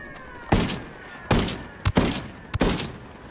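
Sniper rifle shots ring out in a military combat roleplay video game, four sharp cracks spaced about a second apart, each with a booming low tail, loud and close, with no talking.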